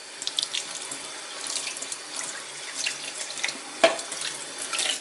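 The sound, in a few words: tap water rinsing a dishwasher filter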